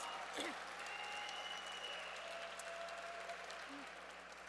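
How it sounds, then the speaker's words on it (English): An audience at an awards gala applauds a community activist and filmmaker, a steady wash of many hands clapping together, heard faint and distant throughout with a low hum beneath. "She deserves a big, big, big round of applause."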